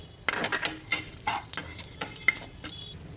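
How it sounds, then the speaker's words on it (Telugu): Cashews and almonds frying in ghee in a pan, a bright sizzle broken by repeated scraping stirs of a spoon against the metal, close and alone without speech. "వీటిని కూడా ఫ్రై చేసుకుందాం."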